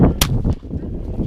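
At a benchrest shooting competition, a 4.5 mm pneumatic air rifle fires with a sharp, close crack, followed by a few softer snaps from nearby shots in quick succession.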